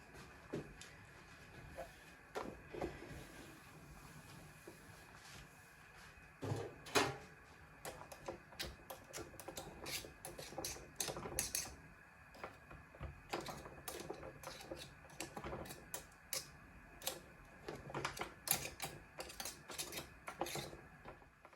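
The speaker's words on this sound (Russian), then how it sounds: "вот так вот я взбиваю масло" Cream being whipped into butter gives off irregular clicking and knocking, scattered over a faint mechanical hum at a low, steady level.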